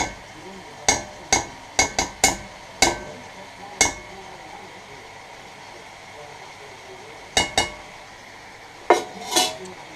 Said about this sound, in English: I'm going to put a lid on